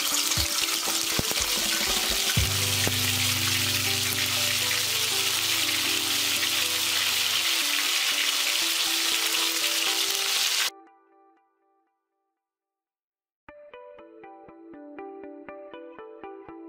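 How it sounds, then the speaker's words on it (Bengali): Whole spices crackle and sizzle in about half a cup of hot oil, a loud, dense hiss that stops abruptly and goes silent, then gives way to a series of melodic tones. "এখন আমি ফোড়নটা দিব।"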